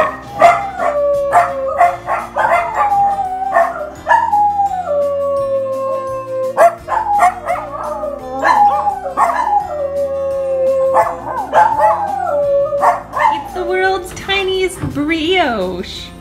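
Several dogs howl and bark in drawn-out, wavering cries with sharp yips between, loud and close throughout, with a person speaking over them toward the end.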